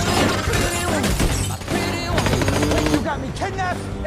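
Rapid bursts of gunfire crackle through a loud, dense action scene, with dramatic music and commotion underneath.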